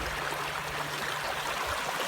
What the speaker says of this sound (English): Squaw Creek, I'm gonna do a crossing here.